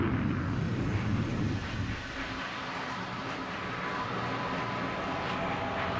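A loud, steady roar of Concorde's jet engines fills the air after passing the sound barrier, a broad rushing drone that stays constant throughout.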